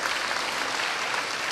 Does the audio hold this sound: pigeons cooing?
no